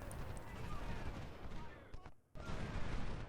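Musket volleys crackle in Ultimate General: Civil War at the Saunders Farm battle, a steady rattling fusillade that drops out briefly near the end before resuming, with faint talk underneath.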